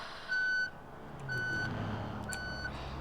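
A vehicle in the BeamNG driving game sounds its reversing alarm, three evenly spaced electronic beeps over a low engine rumble, with no voices.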